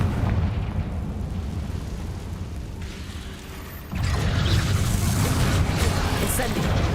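A Confringo spell explosion bursts in Hogwarts Legacy, a sudden blast that lifts into a sustained, crackling roar over rumbling game background.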